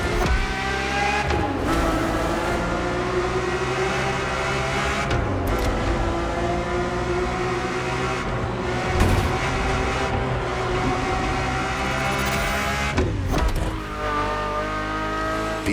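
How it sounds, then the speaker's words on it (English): A Ferrari F50 with a naturally aspirated V12, driven in The Crew Motorfest, howls loudly and close throughout, rising and falling through gear changes with brief dips between shifts and no voices. "The F50's core is a normally aspirated V12 that came straight from a Formula One."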